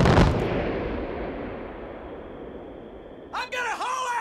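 A mortar round bursts in Far Cry 5, one loud close blast at the start that decays into a long rumbling tail, followed by brief shouting voices at the end.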